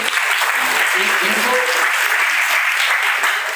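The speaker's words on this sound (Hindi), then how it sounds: "एक ताली बजा दीजिए" An audience at a college Swachhta Hi Seva program claps in steady, dense applause that fills the whole moment, close and loud, with a faint voice briefly underneath.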